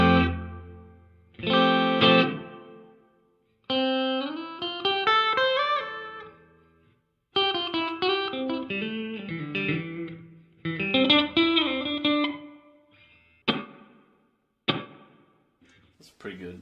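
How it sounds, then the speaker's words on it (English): Electric guitar played through a Donner delay and reverb pedal with the reverb decay set halfway: several strummed chords and picked note runs, each ringing out into a moderate wash of reverb before fading, with short pauses between phrases. "That's pretty good reverb."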